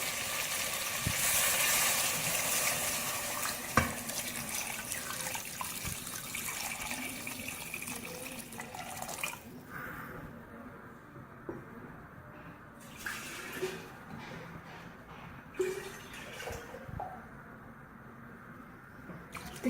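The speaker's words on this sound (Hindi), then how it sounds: "अब पानी शामिल करूंगी।" Water pours steadily into a pot of fried goat trotters for mutton paya, a loud close rushing stream lasting about nine seconds, then quieter bubbling with occasional clinks and scrapes, with no talking.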